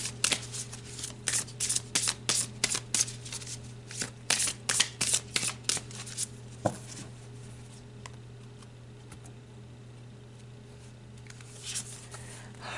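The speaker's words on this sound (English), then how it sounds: "So let's pull a card for overall energy for Sagittarius." Tarot cards being shuffled for a reading, with a burst of rapid riffling flutters through the first half, then quieter handling and a brief final riffle, close up over a low steady hum, no speech.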